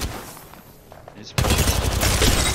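Hip-fire gunfire in Apex Legends erupts suddenly at about the midpoint as a loud, dense burst of rapid shots, following a quieter stretch with faint game sounds and a voice talking.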